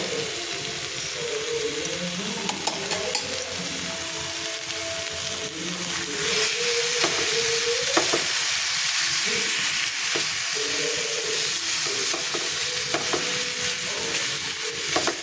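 Powdered sugar mixture being stirred in a pan for mango sandesh, a dense continuous sizzle and scraping with a faint background tone, steady and fairly loud throughout.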